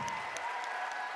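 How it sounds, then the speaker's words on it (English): Audience applause breaks out for cosplayers who competed on stage at a cosplay contest and grand championship, a dense, steady wash of clapping from a large crowd throughout. "one more huge round of applause for all of the cosplayers that stood on stage tonight"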